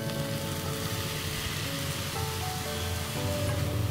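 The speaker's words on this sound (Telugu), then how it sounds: "ఇప్పుడు ఈ కొబ్బరి మిశ్రమంలో 1/3 కప్ చిక్కటి మీగడ పాలని మనం ఇందులో వేసుకోవాలి" Thick creamy milk hits a frying fresh coconut mixture in a pan, giving a loud, continuous sizzle that swells slightly near the end.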